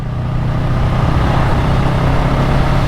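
A Honda Rebel 500 motorcycle engine pulls hard uphill in fifth gear, a steady, loud low drone with even harmonics holding throughout.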